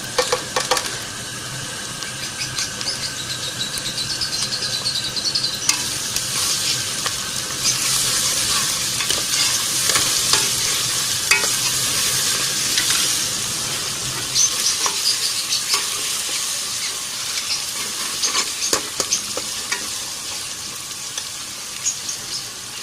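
Garlic and ginger sizzling in a hot pot, a dense continuous frying hiss with occasional sharper crackles and light stirring knocks throughout.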